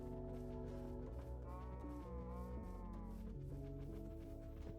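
Cows in the Minecraft video game moo in a quiet, drawn-out low call that rises and falls, heard alone over a steady background with no talk.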